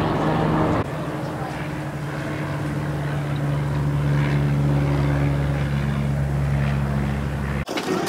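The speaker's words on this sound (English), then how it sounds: "there's a lot of things happening here, planes coming in, helicopters flying." Aircraft engine drone, likely a propeller plane or helicopter, passing over a Barcelona beach at the water's edge; a steady low hum continues for several seconds at moderate distance under beach ambience.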